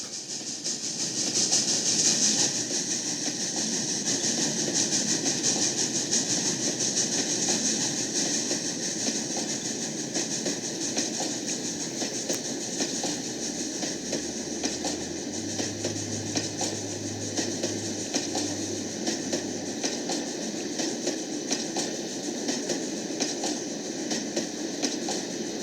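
A model train runs continuously along its tracks in a steady, even rumble with a faint rhythmic clatter, a lower mechanical hum entering partway through, with no voices.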